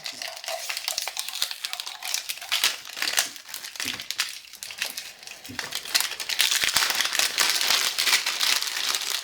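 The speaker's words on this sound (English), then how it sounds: "You're just going to peel it off." Shrink wrap being peeled off a sublimation coffee cup, giving close, continuous crinkling and crackling plastic that grows denser and louder toward the end.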